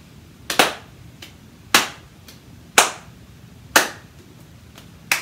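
Sharp hand claps in an uneven rhythm for a clapping game, about eight crisp smacks, some doubled, close and loud with quiet gaps between them.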